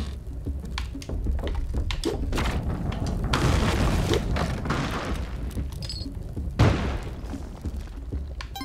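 A bomb bag blowing up in the game Spelunky 2, a chain of deep booming blasts and thuds tumbling over one another for several seconds, loud and close, with a sharper bang near the end.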